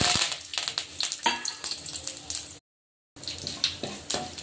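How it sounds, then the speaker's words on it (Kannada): Mustard seeds, cumin, fenugreek and curry leaves fry in hot oil for a vegetable sambar, a close crackling sizzle with bursts of popping seeds, briefly cut to silence midway before resuming. "ನೋಡಿ ಫ್ರೈ ಆಗಿದೆ ಈಗ ಸಾಸಿವೆ ಜೀರಿಗೆ ಎಲ್ಲ"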